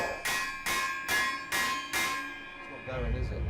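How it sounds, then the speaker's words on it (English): A hammer strikes a metal combat robot part five times in steady succession, each a loud ringing clang, followed by a duller knock and rustle as the repair stalls. "We're at that point where we're just hitting it with a hammer."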